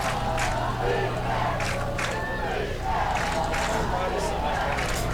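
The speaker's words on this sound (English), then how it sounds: "Let's do a defense chant, or let's go crazy there, crowd." A high school football crowd roars during a Council Grove versus Humboldt game as the defense takes the field late in the fourth quarter, a loud continuous wash of cheering and shouting that never lets up.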